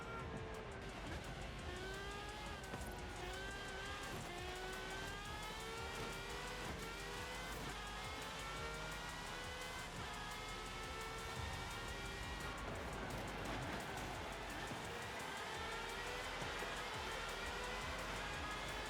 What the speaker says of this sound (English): Sounds like one too. Sounds like an Indy car.